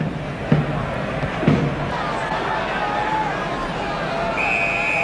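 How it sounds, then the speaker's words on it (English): Football crowd at Upton Park before kick-off of a West Ham v Ipswich Division One match in 1970/71, a steady distant murmur and babble of thousands of spectators with a couple of brief louder thumps or shouts. "the crowd are waiting in the sunshine for the kick-off"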